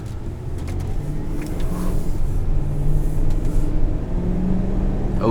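A 2008 Ford Expedition XL Limited's Triton V8 hums steadily while driving, a low, even engine drone close by with faint road rumble and no talking.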